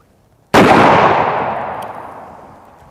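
A single very loud shot from a Smith & Wesson .500 Magnum revolver firing 500-grain loads at body armor outdoors, with a sharp crack and a long booming tail that fades over about two seconds.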